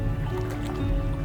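Legs wading through knee-deep water along a wooded trail, with steady sloshing and splashing that runs continuously and close by, with no talk.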